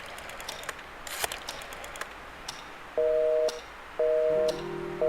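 Busy signal on a telephone call in the Scratches video game, a steady tone pulsing on and off in three repeated bursts after faint clicks and rustles, with no talking.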